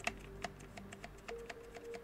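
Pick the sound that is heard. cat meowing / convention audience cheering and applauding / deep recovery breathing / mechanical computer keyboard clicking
mechanical computer keyboard clicking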